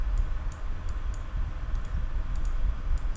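Mouse buttons click crisply on a computer while a file is extracted by right-clicking, with about a dozen sharp, close clicks spaced irregularly, some in quick pairs, over a low steady background hum.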